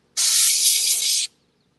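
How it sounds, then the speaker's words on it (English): A steady hiss of aerosol spray, one continuous burst lasting about a second, close and loud, then silence. "I'm just spraying random things."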